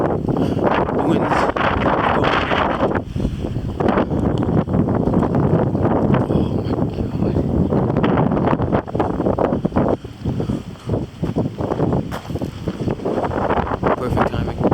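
Strong gusting wind storm in Kelowna, British Columbia roars continuously and loudly against the microphone, a dense buffeting rush that barely lets up for the whole stretch.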